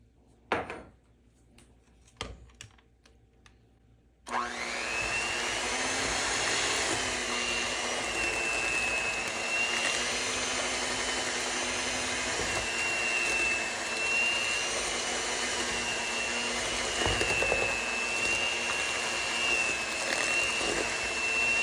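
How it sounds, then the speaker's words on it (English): A few light clinks and knocks are followed by an electric mixer starting up to blend cookie batter with an egg, giving a loud, steady whirring drone that runs to the end. "Now I'm going to add in my 1 egg and then I'm going to blend it again."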